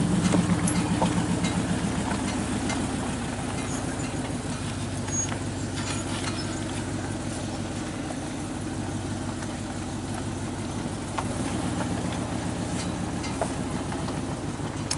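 A vehicle engine idles and rumbles steadily while driving out of a cattle feedlot past pens of calves, a continuous low drone for the whole stretch with no talk over it.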